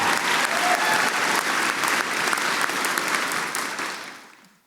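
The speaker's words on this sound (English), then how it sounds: "We can clap for her." Audience applauds at an academic awards convocation, a sustained wash of many hands clapping that holds steady and then fades out at the end.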